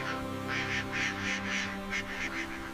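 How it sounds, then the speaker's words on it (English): Egyptian geese and whistling ducks calling in a night-time grassland, a soft rhythmic series of honking and quacking notes under gentle sustained piano tones. "Around scattered termite mounds, Egyptian geese and whistling ducks."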